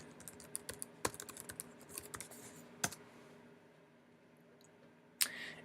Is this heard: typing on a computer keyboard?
yes